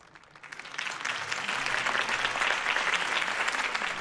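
Crowd applause at a political campaign rally for Harvey Dent in Batman: The Telltale Series rises from quiet and settles into a dense, steady roar of clapping with no voices.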